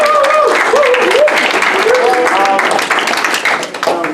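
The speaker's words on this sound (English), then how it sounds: "So let's give her a round of applause." Audience applause fills a golf senior-night gathering, steady and dense throughout, with voices and cheering mixed into the clapping before it thins slightly toward the end.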